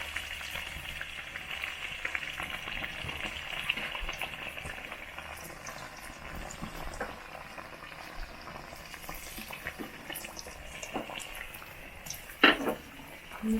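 Food frying in a very small frying pan in an African village kitchen, giving a steady close crackling sizzle with a few stirring and scraping sounds and one sharp knock near the end.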